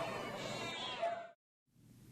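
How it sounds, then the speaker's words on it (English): A shelter cat bought for a university lab gives a single long, loud meow close up, then falls silent before a faint rustle of background noise returns. "The university bought this affectionate cat, named Robert,"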